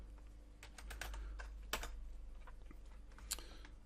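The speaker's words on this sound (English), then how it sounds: "if you want to go up here and type in DOS Trader" Keys clatter on a computer keyboard in an irregular run of light clicks and a few sharper strikes, close and fairly quiet over a low steady hum, with no talking.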